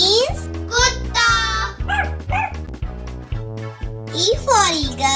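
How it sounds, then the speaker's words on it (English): A dog barks and whimpers in short yips against steady background music, with a voice speaking in between and over the barks. "D for dog."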